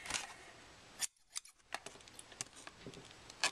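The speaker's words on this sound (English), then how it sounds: "you can just grab some scissors" Scissors snipping through the clear plastic blister packaging of a 2013 Yomega Fireball yo-yo, a few sharp, close crackling cuts and clicks with short pauses between them, no voices.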